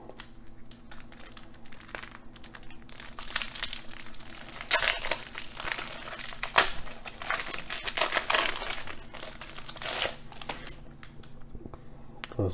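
A Marvel trading card pack is torn and opened by hand, with close crinkling and crumpling of the foil wrapper in busy bursts, followed by quieter rustling and no talk.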